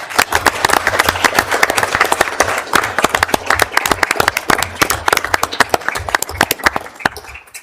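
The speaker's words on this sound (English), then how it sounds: "if everybody would join me in giving them and Riley and Elizabeth one last round" Round of applause at a city council meeting, many people clapping close by in a loud, brisk patter that carries on for several seconds before tapering off.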